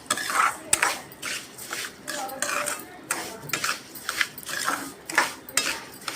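A spoon scrapes and clinks against a pan while sugar is stirred into semolina shira, a rhythmic series of metallic scraping strokes, close and fairly loud, with no talking.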